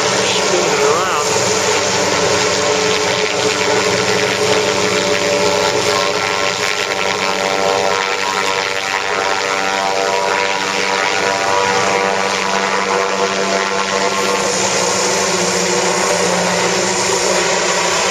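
Loud, constant droning of a Goodyear blimp's engines and whirring propellers, steady throughout, with people talking underneath at a flying demonstration in Ashland, Ohio.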